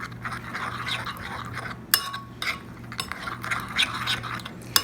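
A spoon scrapes and clinks steadily around a bowl while stirring an olive oil vinaigrette dressing, with repeated soft metallic taps and a few sharper clinks, close by.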